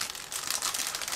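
Crinkling of a sealed plastic bag holding Miniart 1/35 B-Type Omnibus model kit sprue frames as it is opened, a continuous close rustle with no talking.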